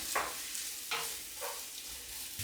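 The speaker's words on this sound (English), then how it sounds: "So nice, gentle stir fry." Onion and garlic stir-fried gently in a pan for a mushroom risotto, giving a low steady sizzle broken by a few short scraping stirs, close and alone with no talk.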